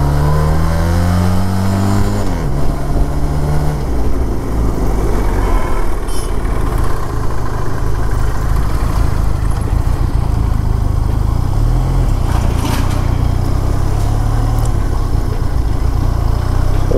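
Benelli TRK 502 BS4 motorcycle engine on a test ride, a loud steady drone that shifts pitch early on, then settles into continuous running engine noise with wind rush throughout.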